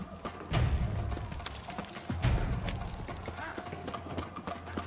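Horse hooves clop in bursts over a low ambience in the game The Witcher 3: Wild Hunt, with two heavier thudding clusters of steps and faint talking underneath.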